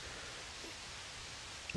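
Steady hiss of white-noise static from a TV with poor cable reception, soft and unbroken with a faint rustling texture, alone with a small bump right at the end.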